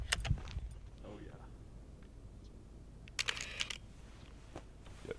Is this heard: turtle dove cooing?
no